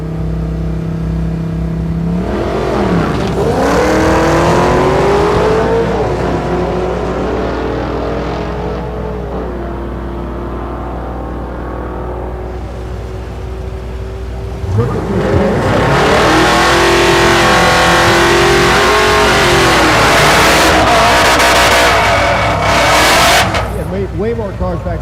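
A stick-shift Chevrolet Malibu drag car roars down the strip at Thunder Valley in Noble, Oklahoma, its engine winding up loud and close through distinct gear changes, dropping briefly before surging again and holding a sustained high-revving scream.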